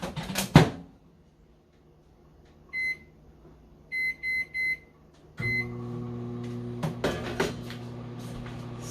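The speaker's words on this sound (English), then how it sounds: "Pop these in the microwave." A microwave oven heating food: door clunk and keypad beeps in short bursts, then a steady low hum as it starts running, with a few clattering knocks over the drone.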